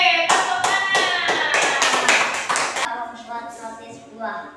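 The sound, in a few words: class of children applauding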